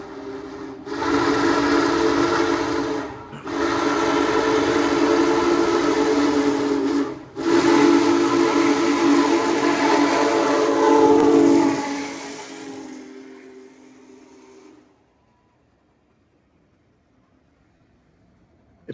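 A steam train passes near Sinking Spring and sounds its whistle in three loud, long chime blasts separated by brief gaps. The last blast is the longest and fades away as the train moves off, leaving near silence.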